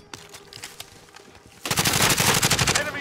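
Call of Duty Warzone gunfire: sparse distant shots at first, then a loud, dense burst of rapid automatic fire sustained through the second half, no talking.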